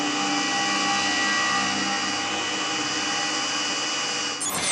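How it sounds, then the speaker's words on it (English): A drill bores into the centre of a piston, a steady, loud whirring grind that runs unbroken for several seconds before cutting off abruptly at the end. "I'll just drill right in the centre. They do drill very easily,"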